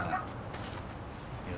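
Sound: dog barking in the video game Lost Judgment

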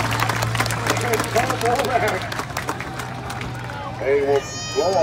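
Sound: crowd applause at ATV racing

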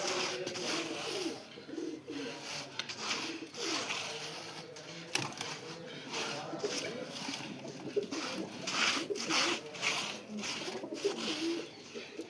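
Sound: pigeons cooing

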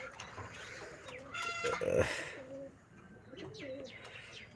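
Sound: pigeons cooing

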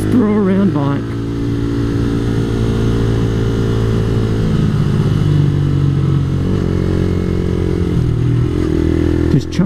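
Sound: motorcycle engine while riding on a road

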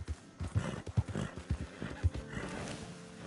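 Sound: horse neighing and hooves in a video game

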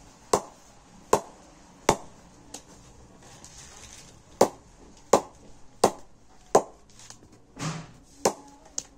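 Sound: knocking an SG leather cricket bat to test its sound

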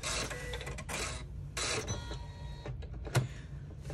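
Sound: embroidery machine doing satin stitching on vinyl

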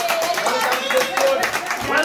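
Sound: group applauding newcomers

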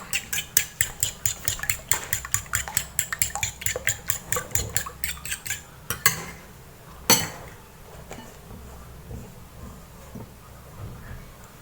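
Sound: eggs being beaten with a rice spoon

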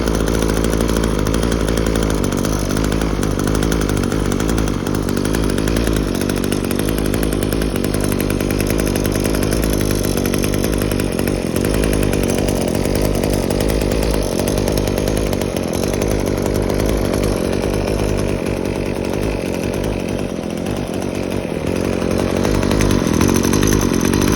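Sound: Kawasaki TJ27 27cc brush cutter engine running

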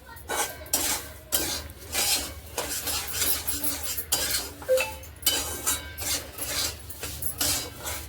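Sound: semolina being roasted and stirred in a pan on low heat

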